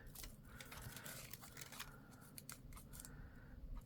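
Scissors snip the tail off a small handmade paper bow, a run of close, crisp cuts and rustles sounding alone in a quiet room.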